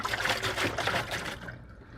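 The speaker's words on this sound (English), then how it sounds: "I'd suggest you do a couple of partial fills and then slosh it around" Water sloshes and trickles inside a windscreen washer reservoir bottle from an Aston Martin, a short, fairly quiet liquid swirl that fades toward the end.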